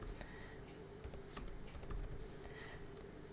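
Computer keyboard typing while entering a report name on a broker platform, a quick irregular run of clicky keystrokes with short pauses, fairly quiet and steady.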